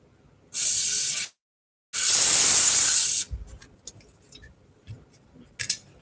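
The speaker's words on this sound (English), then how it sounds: "Spray it all over to get some of the dirt out." Two loud bursts of cleaner spray hiss close by onto a seized drivetrain, the second longer, followed by faint clicks and handling noises.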